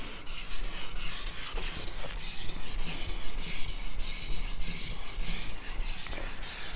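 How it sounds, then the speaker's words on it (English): A Chinese cleaver is sharpened on a whetstone with repeated rhythmic scraping strokes, each rasping pass close and clear, with no talking. "It's important to keep a consistent amount of sharpening across the blade."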